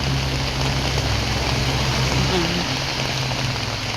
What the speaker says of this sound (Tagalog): dahil umuulan po talaga